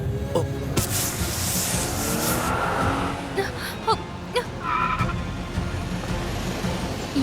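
A car rolls along on what seems to be a punctured tyre, with steady road rumble, scraping and thumping, and a few sharp knocks and squeaks, close and fairly loud.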